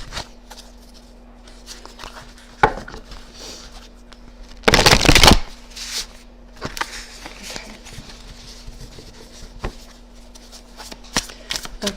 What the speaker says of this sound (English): I overhand shuffle until the card kind of falls out or just feels right